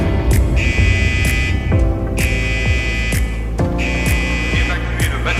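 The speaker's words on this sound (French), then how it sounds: "C'est l'alarme incendie du quartier Psy." A fire alarm sounds in the psychiatric ward of a prison, a loud, steady electronic alarm repeating in regular pulses over a low hum, with no one talking.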